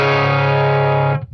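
Electric guitar through a JHS Colour Box preamp pedal, one sustained, loud, distorted chord ringing steadily for about a second before being cut off.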